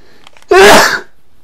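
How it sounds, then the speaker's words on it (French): One loud, sharp human sneeze bursts out close to the microphone and cuts off after about half a second, with near silence before and after. "Ça, je peux pas éviter que si je dois éternuer, j'éternue."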